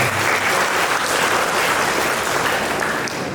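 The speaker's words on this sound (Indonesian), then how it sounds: "Kita berikan tepuk tangan kepada mereka" Loud, dense applause from a crowd honouring disabled athletes at a community gathering, a continuous close wash of clapping throughout.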